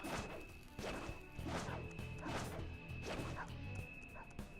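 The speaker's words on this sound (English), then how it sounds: "Now there's a dog in this next hallway." Dog barking in the video game Persona 5 Royal, a series of repeated bark-like bursts about every half second over game background music and sound effects, with no talking.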